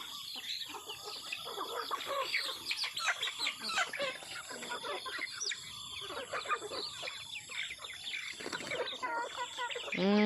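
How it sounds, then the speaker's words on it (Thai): Several chickens cluck and squawk nearby in a busy outdoor yard at six in the morning, with other bird calls and a rooster crowing faintly in the background. "รู้สึกว่าไก่ป้าอ้อนจะบางๆ ลงนะคะ"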